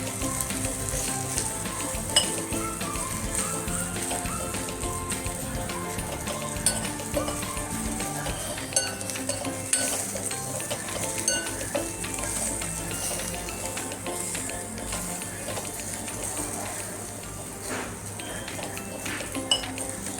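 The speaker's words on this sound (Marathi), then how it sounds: "असाच मी जे आपल्या कढईला तेल होतं त्यामध्येच तो मी परतून घेतला" Garlic sautés in oil in a kadhai with a continuous soft sizzle, while a utensil occasionally clinks and scrapes against the metal.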